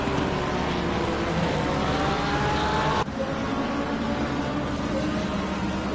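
Race cars at Zandvoort, among them a BMW, hold a steady high engine drone close by, with a rising whine and a sudden shift in tone halfway through.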